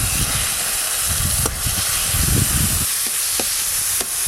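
Bottle gourd peel paste sizzles in hot mustard oil with nigella seeds, a steady close hiss and crackle with a few brief stirring knocks and no talking.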